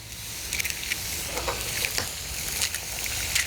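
An egg cracked into a pan sizzles in avocado oil, a steady close crackle with small bursts of popping spread across the whole stretch, no voices.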